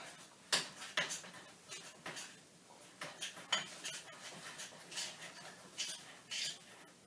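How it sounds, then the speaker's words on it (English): A spoon stirring puffed-up melted marshmallows in a bowl for messy play dough, heard as a quiet series of irregular scrapes and light clinks against the bowl, close and soft with no talk. "We're going to stir those up."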